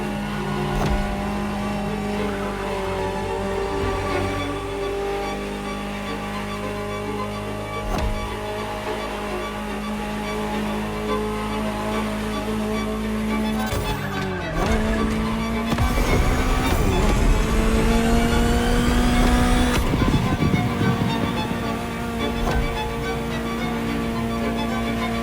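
A Ferrari supercar in the racing game The Crew Motorfest drives and revs hard. The loud engine note climbs and falls through gear changes and rises to a high-pitched wail later on.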